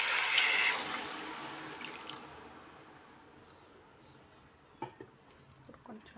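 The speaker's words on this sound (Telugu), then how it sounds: "చింతపండు రసం పోసేసుకుంటున్నాను." Tamarind juice being poured into a cooking pot gives a close, bright liquid rush that fades out over the first couple of seconds, followed by a few soft clinks of the pot.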